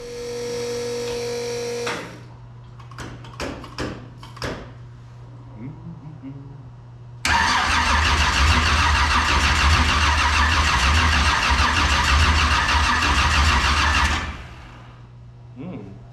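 A 1948 Austin drag car engine cranks with a few sharp clicks over a low hum, then fires into a loud, steady, raspy run for several seconds before dropping back to a quieter idle, close by.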